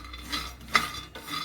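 Peanuts roast in a pan over a medium flame, with a few close, brief clinks and scrapes of a utensil stirring against the metal.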